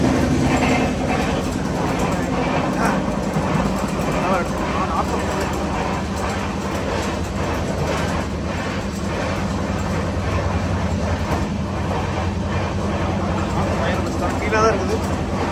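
A general class coach on a Salem to Mumbai train, riding along with a continuous low rumble and clatter of wheels on track, steady and fairly loud from inside the carriage, with voices and cabin chatter underneath.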